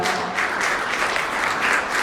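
Steady, dense applause from a concert audience, loud and continuous throughout with no voices over it.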